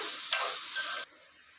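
Onions fry in a pan for tomato pasta and are stirred, making a bright close sizzle with a couple of scraping accents. The sizzle cuts off abruptly after about a second.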